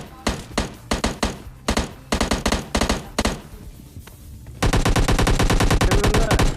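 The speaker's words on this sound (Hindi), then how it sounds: "गन शॉट सुनो गौर से बिल्कुल" Rapid gunfire in a battle-royale shooter game, several loud bursts of automatic shots separated by short pauses, then one long continuous burst at the end, with no talking over it.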